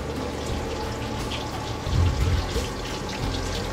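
Tap water runs steadily into a sink to wet a conch. The flow is a constant close hiss, with a brief louder splash partway through and no speech.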